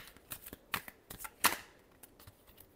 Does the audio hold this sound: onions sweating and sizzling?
no